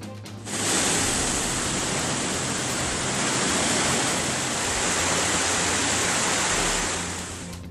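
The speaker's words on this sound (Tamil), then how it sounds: "நீர்வரத்து அதிகரிப்பால் கும்பக்கரை அருவியில் வெள்ளப்பெருக்கு." Kumbakkarai waterfall in flood, a steady, loud broadband roar of rushing water that fades in quickly and holds evenly, with no voices.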